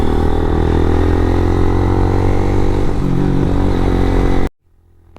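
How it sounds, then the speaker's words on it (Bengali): A motorcycle engine drones loud and close at high revs in low gear up a steep road to Sajek, straining steadily, then cuts off abruptly near the end. "বাইকে একদম শর্ট গিয়ারে হায়ার পিএমে বাইক উড়াইতে হয়"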